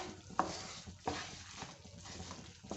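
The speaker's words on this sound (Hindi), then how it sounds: "मिक्स करते जाएंगे।" A maida barfi mixture is stirred in a pan, giving a quiet, continuous scraping and bubbling sizzle with a few soft spoon knocks against the pan.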